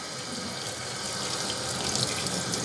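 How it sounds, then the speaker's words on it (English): A carbon steel pan being rinsed under a running kitchen tap, water hissing and splashing steadily into a sink, close and uninterrupted with no voices. "let's give it a quick rinse."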